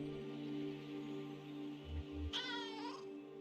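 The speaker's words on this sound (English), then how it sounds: "Chatty Meow." Cat in the video game Kentucky Route Zero gives a single clear, rising-and-falling meow near the end, over a steady low electronic hum and faint soft thumps.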